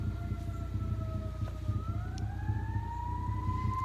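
A Ford ST engine with a homemade turbo intake is held at about 4,000 RPM, a steady low rumble under a whining tone that climbs slightly in pitch, moderately close and with no talk.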